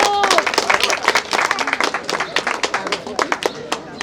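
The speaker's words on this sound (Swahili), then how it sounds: "Naomba mumpigie makofi mengi sana." A crowd at a public gathering in a Zanzibar constituency breaks into clapping, loud and dense at first, then thinning into scattered individual claps.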